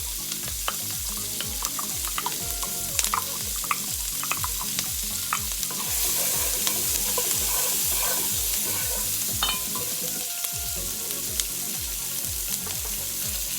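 Garlic and onion sizzle steadily in the cashew oil in a pan, a close, continuous frying crackle broken by the repeated scrape and clink of stirring, with no talk.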